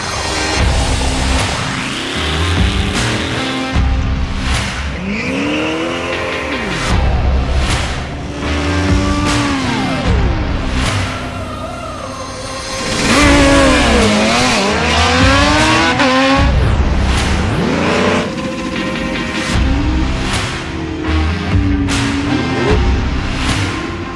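Drag racing cars accelerate hard at a race circuit, engines screaming up through repeated rising sweeps with loud revving bursts and a brief tire squeal, each run swelling then fading, with no talk.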